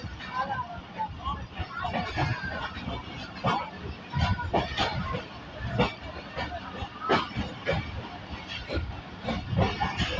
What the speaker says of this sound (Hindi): तो फ्रेंड इस वक्त हमारी ट्रेन डिगोट जंक्शन से डिपार्ट कर रही है।